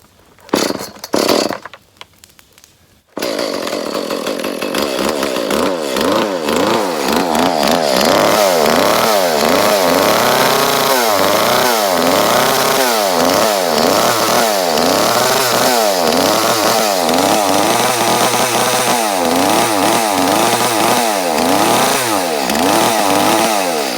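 A chainsaw fires after a pull rope is yanked and then runs loud and close for about twenty seconds, its engine revving up and down in a rapid repeating rhythm after a few sharp pulls at the start.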